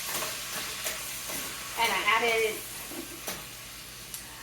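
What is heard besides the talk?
frozen green beans sautéing in bacon grease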